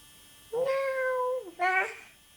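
A small child imitates a cat's meow, giving two drawn-out, tonal meows in a row, the first long and sliding down, the second shorter and brighter.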